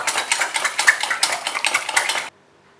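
Cake batter with sugar beaten in a bowl for a no-oven, eggless, butterless chocolate cake: rapid, continuous clattering whisk strokes against the bowl, close and fairly loud, stopping abruptly near the end.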